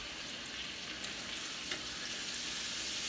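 Ribeye and chuck steaks simmer in a pan with a steady, even sizzle and soft bubbling, continuous throughout with no talking.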